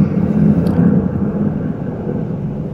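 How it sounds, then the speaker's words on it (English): An airplane passes overhead as a low, steady rumbling drone, fairly loud and continuous with no talking over it. "I think you had an airplane above you there"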